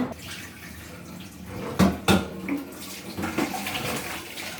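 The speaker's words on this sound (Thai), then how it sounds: "ล้างน้ำเกลือกี่ครั้งแล้ว ล้างสองแล้วล้างอีกสักครั้งก็ได้" Fish being rinsed in salt water by hand, with close sloshing and splashing, a couple of louder water splashes and scattered drips in a basin.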